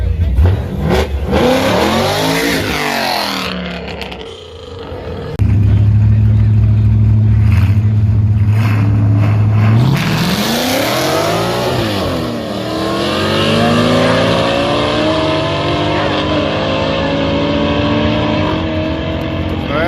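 Stick shift cars drag racing at a no prep event at Knoxville Dragway roar loudly and rev hard through repeated rising pitch sweeps as they shift gears, with a sustained droning engine in the middle and talk faintly underneath.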